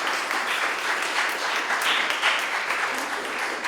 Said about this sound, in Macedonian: Ве молам еден аплауз за сите гости вечера.